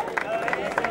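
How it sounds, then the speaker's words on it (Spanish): Spectators at a dirt-road rally stage in Villa de Ausejo, 2014, give a brief burst of clapping for the third-placed crew. Several close, sharp claps come in quick clusters under a murmur of crowd voices, lasting under a second. "Un aplauso para los terceros."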